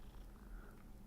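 A cat purring while being petted in the video game Hogwarts Legacy, a faint, steady low rumble that continues throughout.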